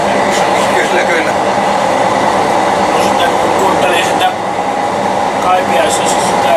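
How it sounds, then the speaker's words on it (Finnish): A train passes near Kouvola in a steady, loud rumble of wheels running on rails, filling the whole stretch without letting up. "Kaipiaisessa sitä junan ohitusta, niin se koko ajan kuului sitä kolketta"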